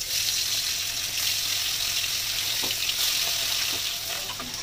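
Pieces of bogo fish frying in hot oil in a pan give a steady, close, loud sizzle with faint clinks and no talking.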